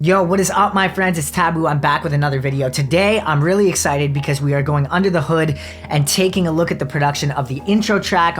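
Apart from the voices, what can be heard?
No distinct noise like a dog, phone or traffic.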